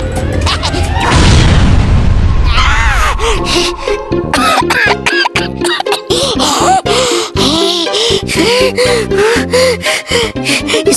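A loud booming explosion with a rumbling, crashing burst, followed by scattered gasps, coughs and vocal noises in a chaotic, stop-start sequence.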